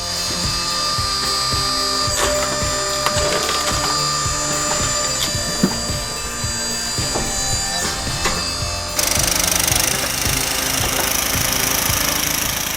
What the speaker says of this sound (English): this self-manufactured firewood processing machine is a game changer